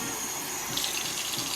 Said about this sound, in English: So I'm just going to fill up the jar